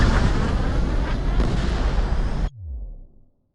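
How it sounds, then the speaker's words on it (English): In Ace Combat 7 a missile launch and jet roar fill the air with a loud, broadband rushing blast that cuts off abruptly, followed by a brief falling low whoosh that fades away. "They fired a missile."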